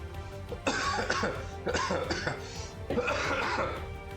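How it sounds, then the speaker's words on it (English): A person with a lingering post-cold cough gives three close, harsh coughing bursts spaced about a second apart, with throat clearing in between, against a quiet indoor background. "it's always this cough after I get cold."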